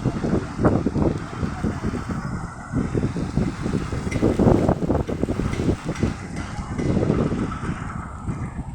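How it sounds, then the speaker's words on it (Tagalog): Strong wind buffets the microphone in constant gusty rumbles at Luneta Park in Manila, loud and close, with no one speaking. "Sobrang hangin dito."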